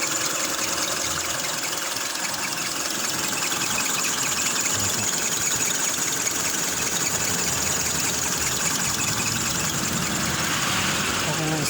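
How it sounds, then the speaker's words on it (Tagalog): A car engine idles after a starter, battery and wiring check, giving a steady, even mid-pitched hum with a faint rattly texture that holds constant throughout, with someone talking over it. "Yan po yung takbo ng makina niya."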